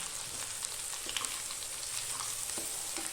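Two medium onions, sliced lengthwise, frying and being stirred in a pan for a chicken roast, a faint steady sizzle with soft scraping taps, no talk.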